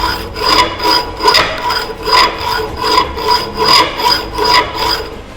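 A hacksaw cuts a metal workpiece by hand during fitting practice in a workshop, giving a steady rasping rhythm of about eight even push-and-pull strokes, close and loud with no talk.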